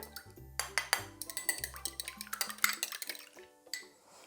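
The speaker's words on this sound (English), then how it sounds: "Mix these together." Sugar, an egg and milk are mixed in a bowl for raspberry buns, a utensil clinking and tapping rapidly against the bowl in a busy, close rhythm.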